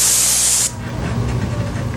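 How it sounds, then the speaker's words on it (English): A paint sprayer blasts latex paint onto a wall in a loud, close, airy hiss that cuts off after under a second, leaving a low mechanical hum. "spraying latex on a wall"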